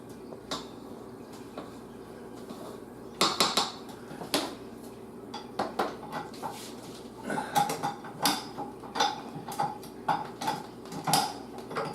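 Bread dough for a tomato and pesto tricolor loaf is mixed with flour in a bowl, giving intermittent scraping, knocking and clinking of a utensil against the bowl, close and irregular, with quiet pauses between strokes.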